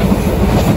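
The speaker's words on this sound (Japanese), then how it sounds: "ここはモーター車の中間連結部分付近です。 このように見てお分かりの通り、左右がガタンゴトンと揺れます。" An Ichibata Electric Railway 2100 series train, a former Keio 5000 series car on the Taisha line, rattles loudly and steadily over the rails, heard from inside near the motor car's coupling area.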